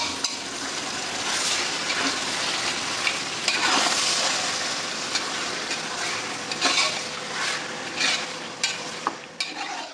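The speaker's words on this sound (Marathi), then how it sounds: "व्यवस्थित आपल्याला ते हलवून घ्यायचं आहे" Marinated mutton is stirred in a sizzling pot for dum biryani: a close, hissing fry with scraping spoon strokes and a few sharp metal clinks toward the end.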